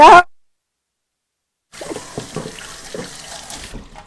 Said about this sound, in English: I'm going to have to wash my hands too, Linda.